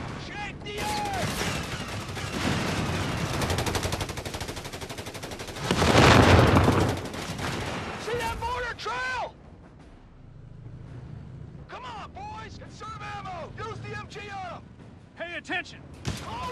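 Gunfire and mortar fire crackle through a World War II battle in Company of Heroes 3 on PS5, with rapid volleys, a heavy mid-clip blast and scattered shots, while voices shout over the fighting.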